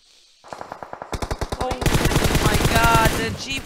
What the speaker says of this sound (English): This is now random shooting through the smoke